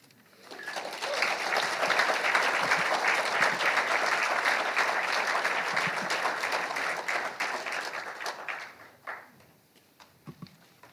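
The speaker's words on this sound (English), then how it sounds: "Let's give one more big round of applause for our inductees." Audience applause fills a hall at a Ferris State Bulldogs athletics Class of 2023 Hall of Fame ceremony, swelling quickly to a loud, dense roar of clapping that holds steady for several seconds, then tapers off to a few scattered claps.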